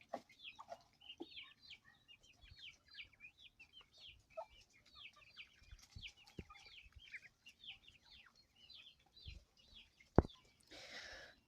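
Chickens, guinea fowl and ducks in a farmyard at feeding time, a steady stream of soft clucks and chirping calls with occasional sharp squawks and a brief burst of wing flapping near the end, fairly quiet and close.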